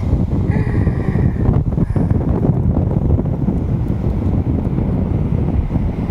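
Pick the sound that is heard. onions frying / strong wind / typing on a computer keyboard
strong wind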